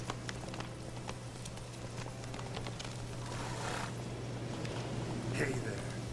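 Roach the horse trotting in The Witcher 3, with steady clip-clop hoofbeats over a low hum and a faint voice partway through.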